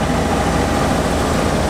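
The engine of a restored Jurassic Park RV, its cooling system flushed and still spitting rusty water, runs loud and close in a steady, rumbling idle, with no voices.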